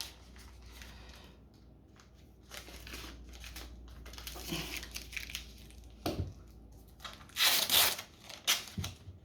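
Masking tape is pulled and torn off the roll while taping up parts of a Ford Fiesta ST180 engine bay for spraying, giving a few close, sharp ripping and crinkling bursts between quieter handling sounds.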